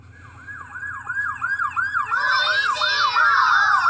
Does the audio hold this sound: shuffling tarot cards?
no